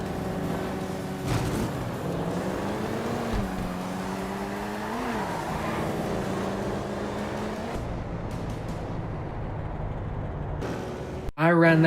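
Drag racing cars in the GTA 5 video game: a steady, loud engine drone with rising revs and shifting pitch that carries on throughout, then cuts off near the end, with someone talking over it.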